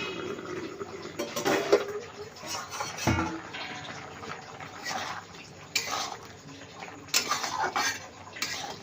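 A pot lid clanks open and a spoon stirs green papaya curry with green chillies, producing a series of close metallic clinks and scrapes in irregular bursts, with soft kitchen noise between them.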